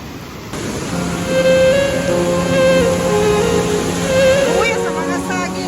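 A broad, steady roar of rushing floodwater swells and persists throughout, with tonal engine-like hums and a rising whine layered over it.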